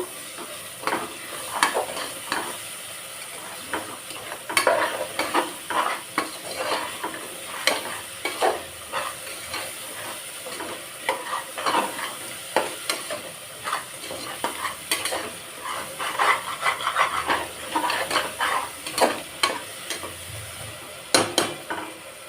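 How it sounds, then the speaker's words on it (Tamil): Ingredients for a rice and lentil dish being sautéed in a pan, with steady sizzling and frequent scraping stir strokes against the metal throughout, close and fairly loud with no talking. "இன்னும் கொஞ்சம் கூட வதங்கி கிடைக்கட்டும்."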